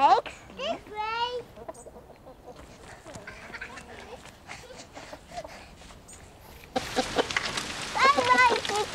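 Farmyard chickens cluck in short bursts, with a louder flurry of clucking and rustling near the end, while people talk intermittently.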